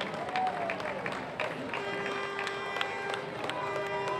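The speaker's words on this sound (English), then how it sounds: "Let's give them another round of applause." A Fourth of July parade crowd applauds a dance team passing by, a faint, diffuse patter of clapping outdoors mixed with scattered voices and steady background hum.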